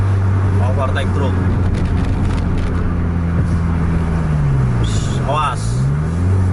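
A PMTOH bus overtakes a truck on the road. A steady, loud engine drone holds throughout with a brief pitch rise as it pulls past, under a constant rumble and intermittent voices.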